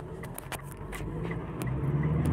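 A 2016 Mitsubishi Montero Sport with the 4N15 engine runs after a check-engine reset from a flat battery, a low steady idle rumble with a faint rise toward the end, no talking.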